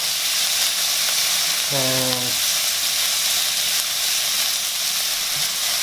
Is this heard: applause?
no